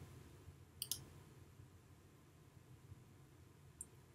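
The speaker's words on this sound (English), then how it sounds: "I am now finished, so I'll click Save." A computer mouse clicks twice in quick succession on a Save button in medical billing fee-schedule software, a sharp close double click, followed by one fainter single click later against a quiet background hum.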